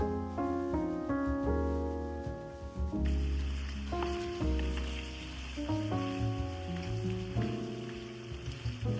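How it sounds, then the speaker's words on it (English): Ground beef and onions cooking in a pan, a soft crackling sizzle that rises after the first few seconds and runs beneath louder background music. "I'm going to cook those until the ground beef is well done and the onions are translucent."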